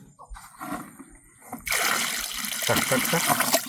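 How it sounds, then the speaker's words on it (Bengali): Water poured into a planting hole in dry soil, a soft trickle that swells at once into a steady, close splashing pour that keeps going to the end. "আরও একটু জল লাগবে যেহেতু শুষ্ক মাটি আরও জলটা টেনেছে একটু জল দিন"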